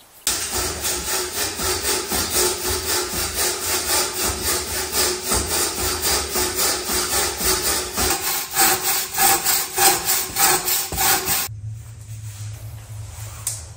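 Hand saw cutting through large wooden logs, a steady back-and-forth rasp repeating in a loud, close rhythm for about eleven seconds before stopping abruptly, leaving quiet low hum.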